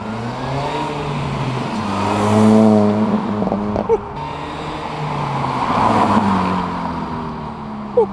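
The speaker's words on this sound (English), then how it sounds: "Mini Cooper S with the custom exhaust sound check." A 2006 Mini Cooper S R53 with a custom exhaust revs up and down in a few rising and falling pulls, loud and close, with a sharp pop near the end.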